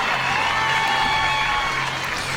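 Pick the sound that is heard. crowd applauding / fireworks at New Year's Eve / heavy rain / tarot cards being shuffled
crowd applauding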